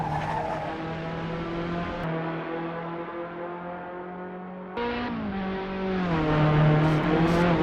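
A vintage race car engine runs hard around a track, a steady loud drone with shifting pitch, then a surge and rising rev near the end as the driver keeps the throttle buried.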